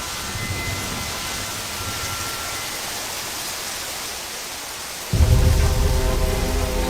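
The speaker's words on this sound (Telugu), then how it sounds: "అయ్యో, ఈ వాన ఒకటి." Rain falls in a steady, dense hiss that fills the whole stretch, joined near the end by a sudden heavier, lower rumbling surge.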